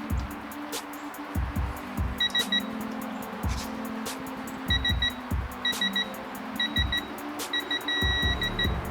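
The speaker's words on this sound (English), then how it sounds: "there's the long beep" Short electronic beeps chirp in clusters against a low mechanical hum, the last one stretching into a long, steady tone, during a Jeep 4.0 liter engine rebuild.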